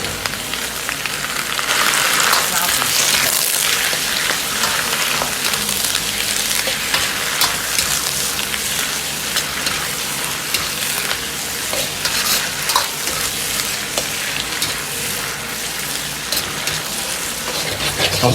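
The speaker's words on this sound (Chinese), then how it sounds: "保持大火炒至大概1分半钟左右，炒至油菜稍微发软" Rapeseed greens stir-fried in a wok over high heat, a loud, continuous sizzle with crackling and the scrape and clatter of tossing, steady and close throughout.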